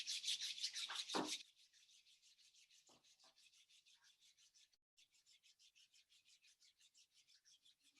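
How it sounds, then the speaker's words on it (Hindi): Two hands rubbed briskly together during a meditation session, a loud close friction burst of about a second and a half, followed by soft faint chirps in the background. "फिर दोनों हाथ को आपस में रब कर लें।"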